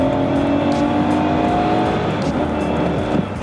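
Volvo XC90 with a 4.4-litre V8 accelerating hard with wheel spin and stability control off, a loud, steady engine roar with faint tyre squeal throughout, close and continuous, no talk.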